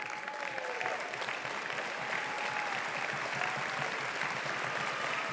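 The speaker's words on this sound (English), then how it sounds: "You deserve to hear a live crowd clap for you." A crowd at a high school graduation ceremony applauds the class of 2020, sustained even clapping with faint cheers and crowd murmur carrying on steadily for several seconds.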